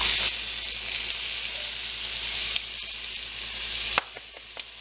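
Onions sauté in a pan with a steady, close hiss and sizzle, broken by a sudden burst where the sound rises and by a few stirring clicks near the end.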